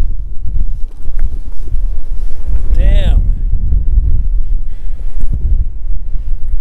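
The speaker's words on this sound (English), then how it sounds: "Lots of wind." Strong wind buffets the microphone outdoors at a windy lookout, a loud, steady low roar running throughout, with a brief animal-like call near the middle.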